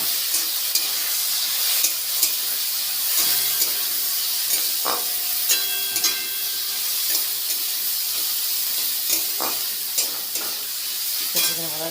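Onion and capsicum fry in a hot pan, with a steady loud sizzle and hiss running throughout and occasional scraping and clinking from stirring.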